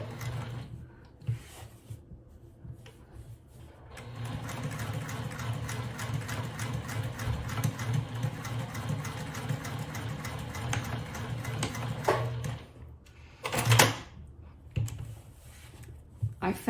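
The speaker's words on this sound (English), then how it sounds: "So let's go to the sewing machine and start to sew." A sewing machine stitches fabric for a hobo bag in a long continuous run of rapid mechanical clatter, with short pauses at the start and near the end, close and moderately quiet.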